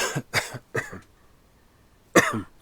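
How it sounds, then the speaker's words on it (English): A person coughs several times in quick succession, a brief pause follows, then one more harsh cough, close and fairly loud. "sorry about the coughing"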